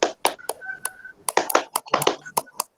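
Hand clapping in a group clapping game in a school training session: quick, sharp claps in short grouped counts with brief pauses, close by, among scattered voices.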